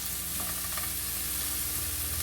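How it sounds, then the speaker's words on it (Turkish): Steady sizzling of onions frying in a pan, continuous and fairly loud, with faint stirring scrapes near the start and no voices. "soğanlarımızı güzelce kavurduktan sonra"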